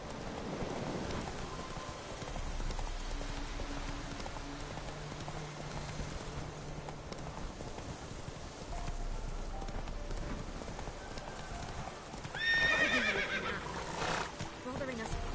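A horse whinnies loudly near the end, following steady hoof clatter and a wet, rainy background; people's voices are faintly mixed in.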